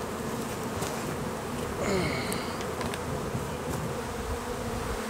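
Honeybees kept by a beekeeper, around a hive during swarming season, make a steady, dense buzz that stays level and continuous throughout, with no voices.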